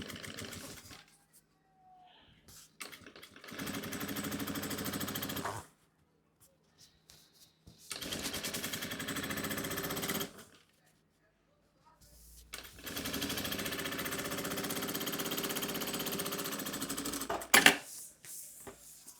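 A sewing machine stitches a fabric notebook cover in three separate bursts of rapid rhythmic whirring, each lasting a few seconds with quiet gaps between, close by and unaccompanied by speech.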